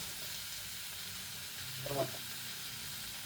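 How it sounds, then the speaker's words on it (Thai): Egg and cucumber being stir-fried in a pan, giving a soft continuous sizzle and hiss with a brief clatter of stirring midway, quiet and close. "เดี๋ยวผัดไปเรื่อย ๆ"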